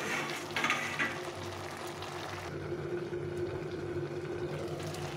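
Cauliflower and vegetable stalks simmer in a covered pot, giving a steady low bubbling hiss that carries on evenly throughout, faint and close, with no voices.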